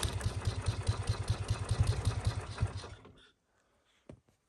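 A motorcycle engine turns over with a rapid, rhythmic chugging pulse for about three seconds, then cuts out into near silence, followed by a single short knock near the end.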